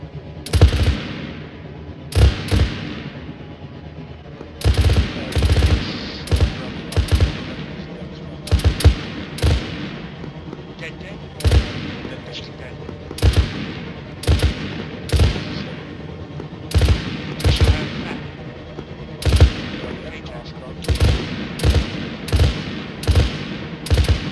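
A vehicle-mounted cannon fires in the Arma 3 video game, loud booming bursts of several rounds each repeating at irregular intervals over a continuous rumbling background.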